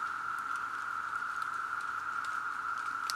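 Cicadas feeding outdoors make a soft, dense pattering like light rain falling, continuous and fairly faint, with a steady high insect whine running underneath throughout.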